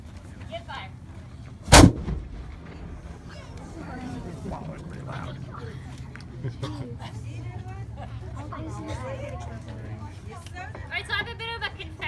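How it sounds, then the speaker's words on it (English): One sharp, booming report from a historic cannon firing a small powder charge at Fort William Henry on Lake George, followed by the murmur of a crowd talking. "If we did it right, this cannon should be pretty loud."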